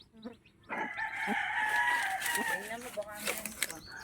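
A broody hen clucks near her scattered chicks beneath banana plants, with soft chirps and calls that run steadily through the clip. Rooster-like crowing notes can be heard, and a person talks nearby at moderate level.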